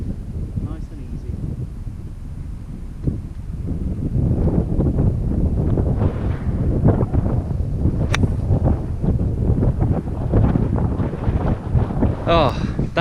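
Strong wind gusting across a golf course at Delamere Forest Golf Club, buffeting the microphone with a loud, continuous roar that swells and eases, with brief bits of talking.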